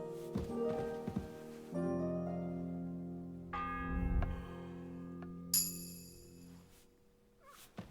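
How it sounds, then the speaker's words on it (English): A church bell in the medieval video game Kingdom Come Deliverance 2 tolls with long ringing, sustained tones that strike a few times and decay slowly, layered with other sounds and fairly quiet. "The fourth bell"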